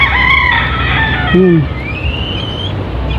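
Chickens freshly released onto open ground, with a rooster crowing loudly nearby over clucking and farmyard noise, followed by a second, thinner crow in the background.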